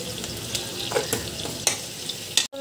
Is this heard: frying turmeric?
yes